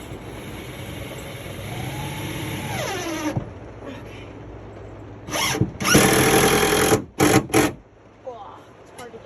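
A weak power drill driving into a laundry room wall, whirring steadily with rising and falling pitch, then several short loud bursts of drilling separated by pauses, heard up close.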